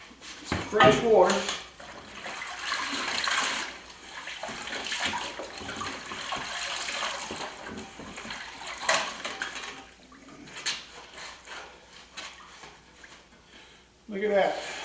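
Fresh water runs over a rusty, pitted Rockwell drill press part being rinsed clean, a steady splashing wash that fills most of the stretch, with a person talking at moments over it.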